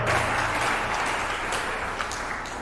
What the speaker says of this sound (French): On peut applaudir l'église ce matin, frères et sœurs.